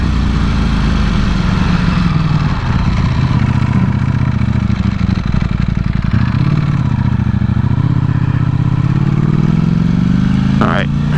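A motorcycle engine runs close up during a ride, a steady low drone whose pitch sags and climbs as the throttle changes, with no separate gear-change clicks standing out.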